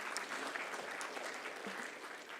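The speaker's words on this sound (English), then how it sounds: "A big round of applause to all the sponsors." Audience applause for sponsors at a mentors' session event, a steady wash of clapping from a crowd that holds evenly throughout at moderate distance.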